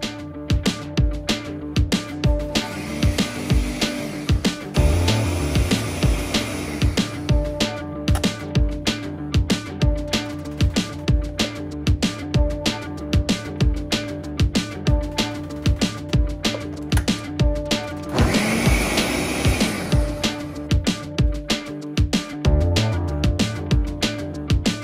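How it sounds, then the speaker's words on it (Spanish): A blender runs steadily with a droning motor whir, its pitch shifting briefly midway as the load changes, blending alcapurria dough made with oil and annatto. "ahora lo vamos a poner en la licuadora"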